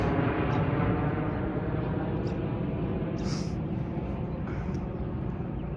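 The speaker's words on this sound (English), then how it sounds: "There goes the airplane." A constant low roar of an airplane overhead near Yonge and Steeles, Toronto, fills the clip, with a couple of faint outdoor noises.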